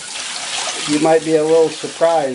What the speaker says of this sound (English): a crazy guy washing his sewing machine in the shower